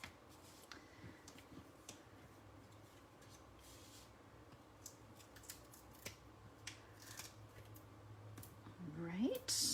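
Scissors trimming card paper make faint, scattered snips and clicks over a quiet room hum, with a louder rustle and squeak at the very end.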